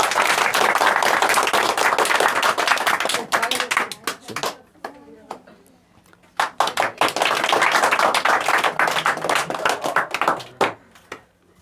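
An audience at a school award ceremony claps loudly in a sustained burst, fades to scattered claps, then swells into a second strong round before tapering off, with a voice speaking in the brief lull.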